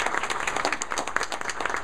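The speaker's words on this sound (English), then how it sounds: "Round of applause for Father Collins." A crowd applauds steadily at a library reopening celebration, dense clapping filling the short stretch without any speech.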